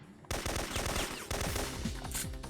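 Loud, rapid automatic gunfire in the action game Syphon Filter, fired along narrow hallways of a stronghold's lower level in one dense continuous burst lasting about two seconds.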